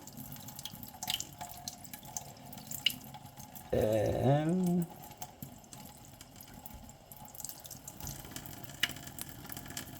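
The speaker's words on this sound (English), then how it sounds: "you fill it, get that water going in there." Tap water runs for about a second into a rubber cuff being filled, a brief rushing pour with a rising, gurgling tone that stands out against quiet room background and faint handling noises.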